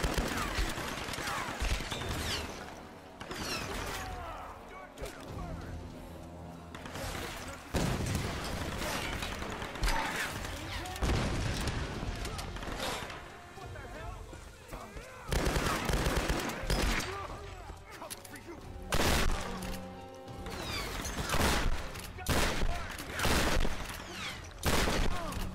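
Gunfire in Tomb Raider Definitive Edition rings out across a long firefight, repeated punchy shots and rapid bursts spaced irregularly, loud and close over a steady din of combat noise, with occasional voices in between.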